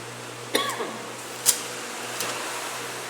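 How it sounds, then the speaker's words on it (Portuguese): A few short, dry coughs spaced about a second apart, fairly soft, over a steady low hum. "essa tosse é muito chata, mas tudo bem."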